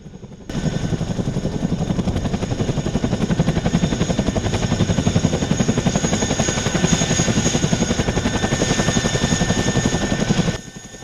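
A US CH-47 Chinook twin-rotor helicopter thunders close and loud, its rapid rotor blade chop pulsing steadily over turbine whine for about ten seconds before fading out abruptly.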